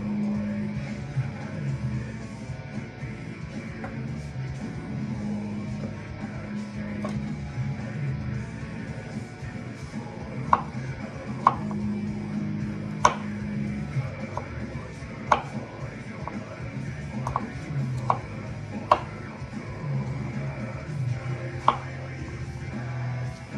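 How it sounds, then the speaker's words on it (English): Knife chopping food into small bits on a board, a series of sharp, irregular taps standing out over a steady background hum at a home cooking session. "let's chop them up into bits and pieces"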